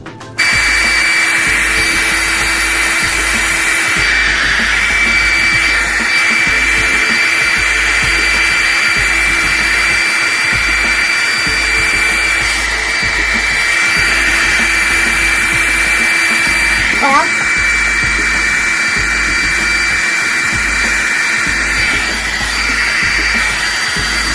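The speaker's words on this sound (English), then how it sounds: "Next is a blow dryer." A blow dryer runs continuously with a loud, steady whirring hum and high whine, its airflow shifting slightly now and then, alone without any talking.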